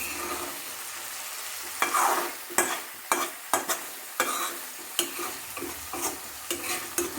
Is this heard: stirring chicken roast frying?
yes